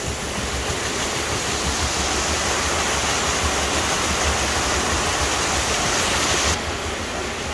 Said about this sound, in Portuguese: A força da água gira a roda.